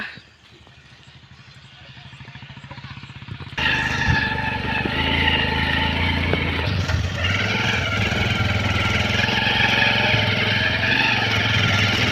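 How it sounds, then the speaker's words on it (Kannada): A motorcycle engine starts up and runs steadily at a loud, constant drone, with a quieter stretch of background noise before it. "ಬೈಕ್ ಹತ್ತಿದ್ರು ಮನೆಯವರು"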